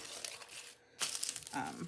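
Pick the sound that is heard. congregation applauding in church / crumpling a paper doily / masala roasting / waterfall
crumpling a paper doily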